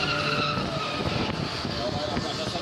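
Drift car with a V12 engine from a 7 Series skidding and pouring tire smoke at a drift parade, right in front of spectators: loud continuous tire squeal over a roaring engine for the whole short burst.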